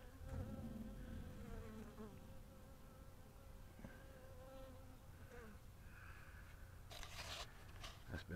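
Wild-swarm honeybees buzz near and continuously around the entrance of a top bar hive, individual insects droning past over a quiet outdoor background.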